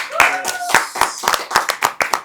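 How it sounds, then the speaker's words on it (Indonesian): A studio audience on a youth talk show claps to welcome a guest, giving a quick burst of sharp, loud hand claps in an irregular rhythm, with a brief voice at the start. "Tepuk tangan untuk Sandi Pradana"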